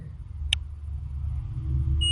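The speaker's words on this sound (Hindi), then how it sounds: "ये बीप कर रहा है।" A multimeter gives two short electronic beeps during a continuity test on a mobile phone circuit board. The first is isolated early, the second comes near the end, both over a low steady hum.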